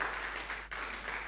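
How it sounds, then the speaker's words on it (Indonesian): A church congregation claps at a Sunday service, dense and continuous applause heard at a distance, fairly faint and without a break. "Tepuk tangan bagi Allah kita."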